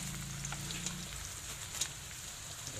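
A pan of ginataan with banana heart, papaya and anchovies sizzles softly while it is stirred, a low, faint crackle with light scraping and a short low rumble at the start.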